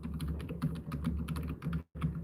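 Rapid, steady keystrokes on a computer keyboard as an email address is entered, close and clear, with a brief pause near the end and no talking.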